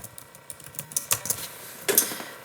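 Rapid, uneven keystrokes on a computer keyboard, close and clear, with a brief flurry of louder taps near the end.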